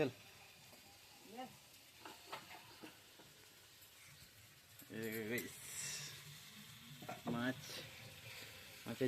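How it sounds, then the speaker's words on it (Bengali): Fish curry sizzles and is stirred in a pot on a village clay stove, a soft steady frying hiss with occasional scraping, while people talk nearby and their voices rise over it. "এই দেখো আমার গিন্নি এখানে রান্না করছে। কি রাঁধছো? মাছের ঝোল।"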